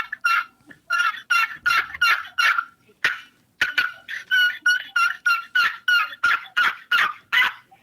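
An aluminum box call imitates a turkey hen's yelp with a long run of loud, close, raspy strokes in quick rhythmic bursts, one brief pause near the middle, and no talking.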